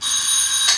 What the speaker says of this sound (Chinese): 恁兜电话咧亮安尼